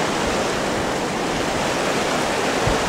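Swollen river in crocodile country in the Bungle Bungles region, flowing strongly as a loud, close, unbroken roar of rushing water with no speech.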